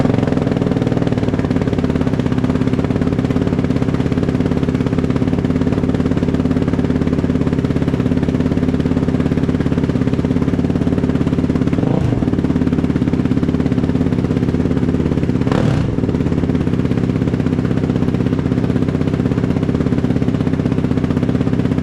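A 2023 Yamaha YFZ450R Special Edition ATV fitted with a GYTR intake runs loudly and steadily close by, its engine droning throughout with two brief sharp blips partway through, no talking.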